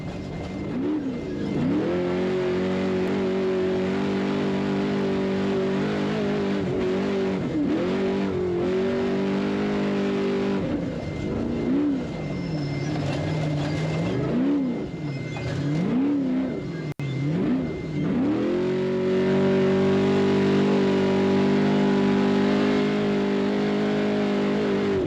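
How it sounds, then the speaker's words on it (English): An off-road race vehicle engine in the NORRA Baja rally from Loreto to La Paz, running on a borrowed motor and revving loud and close, its pitch climbing and dropping repeatedly through throttle blips before settling into a sustained high drone. "So let's listen to the throttle."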